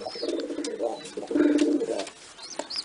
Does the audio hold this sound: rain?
no